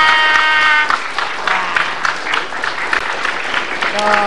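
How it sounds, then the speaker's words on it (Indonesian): Applause crackles steadily throughout in a TV studio audience, mixed with a crowd and a voice talking over it, fairly loud and close. "sekali lagi dong tepuk tangan buat Mbak Sinta."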